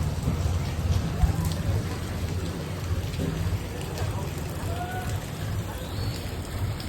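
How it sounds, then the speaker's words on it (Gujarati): Steady, broadband hiss of rain falling in Ghoghamba, Gujarat, continuous and fairly even throughout, with no voices. "વરસાદ પડે છે"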